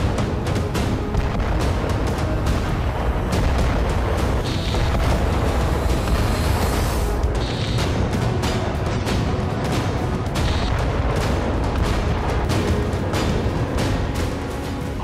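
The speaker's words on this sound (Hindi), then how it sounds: "ताबड़तोड़ मिसाइलों के अटैक से यूक्रेन धुआं धुआं हो गया।" Missile strikes and heavy explosions hit Ukraine, a dense, continuous barrage of booming blasts and sharp bursts rolling without pause, loud and reverberant throughout with no talking.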